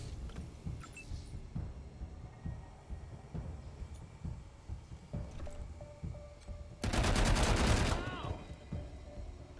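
Gunfire in the turn-based game Wasteland 3 comes as a dense, loud burst of rapid shots lasting about a second, set against a low rumbling game ambience with scattered faint clicks before and after.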